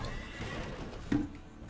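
A horse whinnies in Red Dead Redemption 2, a short high neigh rising briefly over steady game ambience and faint hoof clip-clop.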